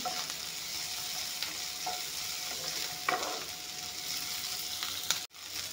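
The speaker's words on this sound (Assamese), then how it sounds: "এয়া চব ভালকৈ ভাজি ল'লোঁ।" Steady sizzling of garlic, ginger and chili frying in a pan, with occasional stirring clicks and scrapes and a brief sharp knock near the end.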